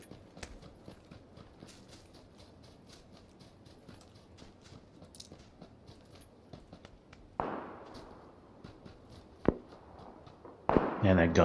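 Gunfire in the battle royale game PUBG: brisk footstep-like clicks patter at a steady pace, then two loud, harsh bursts of fire break out, one midway and a longer one at the end.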